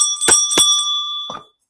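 A small bell rings out with a clear, steady ringing tone, struck twice in quick succession and again once more, each strike adding a short metallic clatter.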